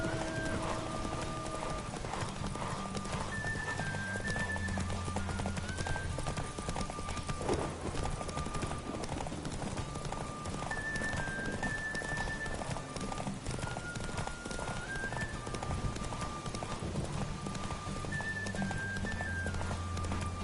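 A video game horse clip-clops along in a steady running rhythm, hoof beats close and prominent over a looping game soundtrack with whistling tones, the animal veering straight off course.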